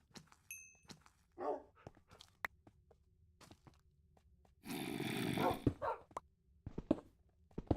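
Dogs in the Minecraft video game make short bursts of barking and whining among scattered footsteps and thumps, with one louder, longer rough burst near the middle; the sounds are close but fairly quiet.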